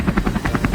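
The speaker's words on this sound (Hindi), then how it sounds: "ये हेलीकॉप्टर भी तो हमारी साइड पे ही आ रहा है।" A helicopter flies overhead near a helipad site outside Rishikesh, its rotor chopping in a fast, steady, evenly spaced pulse that is loud and close, with no voices heard.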